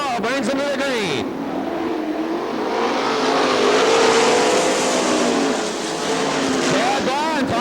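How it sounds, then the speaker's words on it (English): 410 sprint race cars roar around Crystal Motor Speedway in Crystal, Michigan, engines rising and falling in loud revving passes, with a track announcer talking over the racing. "And we're back underway as Dan Hall brings him to the green."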